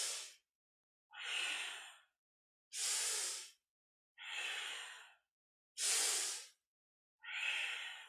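Deep, rhythmic breathing during a kundalini yoga kriya: six forceful breaths alternating inhale and exhale, each about a second long with short silent gaps, close and clear with no talking.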